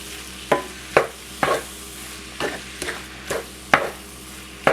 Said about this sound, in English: All I gotta do now is just add some rotel. And do the same thing, just stir it up.